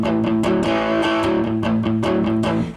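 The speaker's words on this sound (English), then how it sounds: "in that free lesson I showed you the rock and roll rhythm" A distorted electric guitar chugs out a steady, driving rock and roll rhythm, chords alternating in a repeating shuffle pattern.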